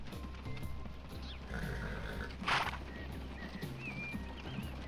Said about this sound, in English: And here we see the troikas with the 3 horses.